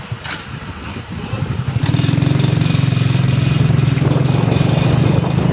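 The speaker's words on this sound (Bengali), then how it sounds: "সবাই সাবধানে মোটরসাইকেল ড্রাইভ করবেন" A motorcycle carrying a father and daughter on a ride home from the main road starts quietly, then settles into a steady, close, loud engine drone with a pulsing rhythm.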